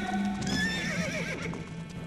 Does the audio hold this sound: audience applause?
no